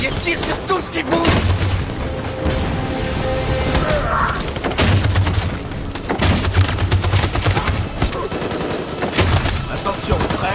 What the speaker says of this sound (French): Cette saloperie de mitraillette tire sur tout ce qui bouge.